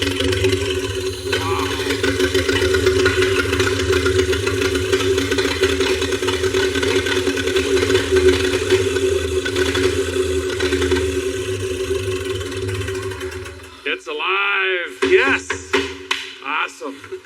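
A revived 1971 Buick Riviera engine runs at a steady, rough idle for a long stretch, loud and close, then cuts out and leaves brief scattered clatter and voices at the end.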